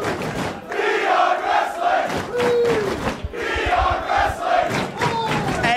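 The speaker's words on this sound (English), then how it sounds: "You can hear this crowd" A wrestling crowd at a Beyond Wrestling independent show roars and chants in loud rhythmic waves, voices rising together in unison bursts that fill the venue.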